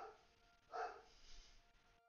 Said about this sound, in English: I don't know if you guys can hear the dog.